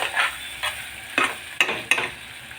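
Red chilli powder is stirred and roasted in a pressure cooker, with five quick spatula scrapes over a low sizzle, close and distinct without any voices.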